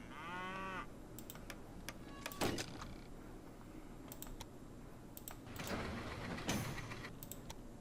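Cattle in Railway Empire give one short, clear moo at the start, followed by scattered clicks of computer keyboard typing in a quiet room.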